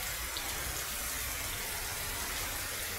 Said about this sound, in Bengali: এই দেখেন অনেক অনেক প্রচণ্ড লেভেল ঝড় বৃষ্টি।